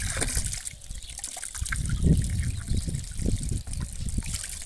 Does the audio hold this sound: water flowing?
yes